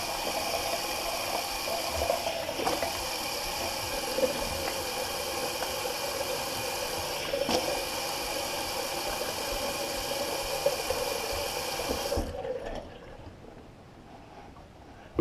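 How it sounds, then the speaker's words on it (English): Cold water running steadily from a tap and splashing over a face during a wet shave rinse, a continuous close hiss with small splatters that cuts off abruptly near the end. "And I rinse it off with cold water."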